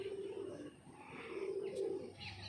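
Pigeons cooing softly nearby, two low rolling coos with faint chirps and a quiet outdoor background, no talking.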